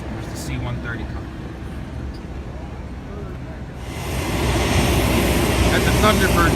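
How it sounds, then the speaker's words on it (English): A C-130 transport aircraft flies over a Cleveland airshow. A steady engine roar swells and grows louder and brighter partway through, with faint voices in the crowd underneath. "There's the C-130"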